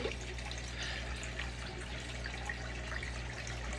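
Tap water runs steadily into a bucket while it fills for an African cichlid, making a continuous close trickling and splashing hiss with no talk.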